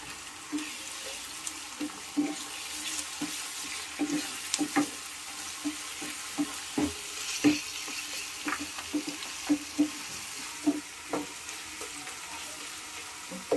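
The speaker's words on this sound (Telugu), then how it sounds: "మనం చేద్దాం. Chicken fry." Chicken fry cooking with curry leaves in a pan, a steady low sizzle broken by repeated clinks and scrapes of a spoon stirring, fairly close and with no talking.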